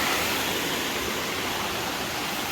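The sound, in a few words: waterfall crashing down near Appalachian Trail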